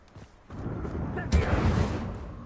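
A Confringo fire spell blasting in Hogwarts Legacy, a loud close burst that swells into a rumbling roar and dies away slowly amid game noise, with speech underneath.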